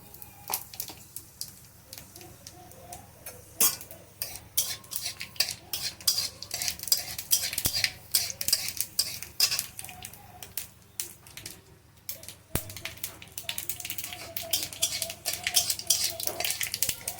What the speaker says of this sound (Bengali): নামিয়ে নিয়ে ফোড়ন দিয়ে দেবো সরষের তেল আর এখানে পাঁচ ফোড়ন আর সর্ষে কালো সর্ষে নিয়ে নিয়েছি ফোড়ন দিয়ে দেবো